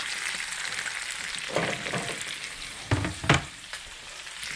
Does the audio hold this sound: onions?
yes